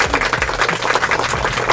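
Hand clapping at home, a quick run of close, sharp claps in a fairly even rhythm, loud and dry, with no talking over it.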